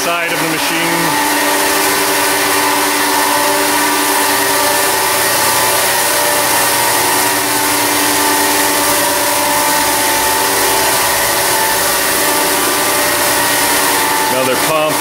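A Lanco E-coat finishing machine runs with its pumps going, producing a loud, steady mechanical drone and hum with layered tonal whine that holds unchanged throughout.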